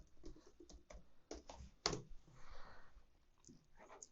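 Typing on a computer keyboard while entering an admin password on a router login page, a quiet run of irregular key clicks with one sharper tap partway through, alone with no talk.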